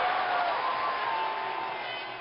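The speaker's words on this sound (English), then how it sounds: "Crowd is going crazy." A cricket stadium crowd in a cricket video game roars and cheers steadily after a well-timed shot, a dense, continuous wash of noise that fades slightly toward the end.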